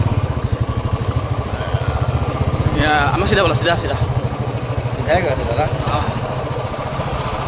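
A motorcycle riding over a badly potholed road, its engine chugging in a steady close rhythm throughout while people talk over it.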